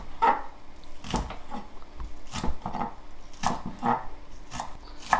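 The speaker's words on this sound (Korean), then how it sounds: "대파를 썰고." Knife slicing green onions (daepa) on a cutting board for spring cabbage geotjeori, a run of crisp, fairly close chops at an uneven, quick rhythm.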